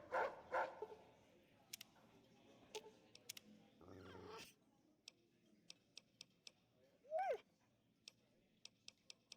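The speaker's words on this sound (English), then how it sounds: "Hey, isn't that the king's dog?" A dog barks in the video game Fallout New Vegas, a couple of faint yaps near the start among sparse clicking ticks and soft game sounds, with no talk.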